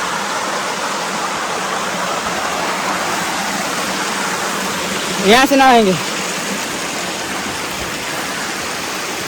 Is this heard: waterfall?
yes